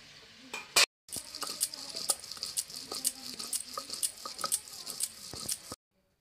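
Fried bottle gourd leaves being ground by hand into bhorta, heard as a close, rhythmic series of scraping and grinding strokes with light clinks, steady for several seconds before stopping abruptly.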